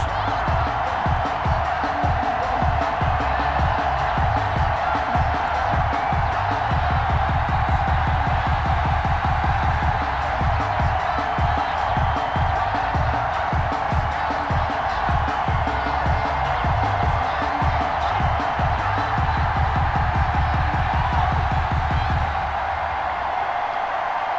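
A Madden NFL game's Baltimore stadium crowd roars continuously for the Ravens–Steelers matchup, a loud steady wash of cheering with a rapid rhythmic pulse underneath, fading slightly at the end.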